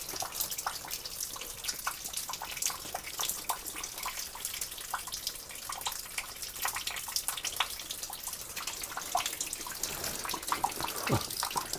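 Water flowing and trickling inside the dark Dorénaz slate quarry, a steady broadband rush with scattered drips and splashes throughout, fairly close and continuous with no talking.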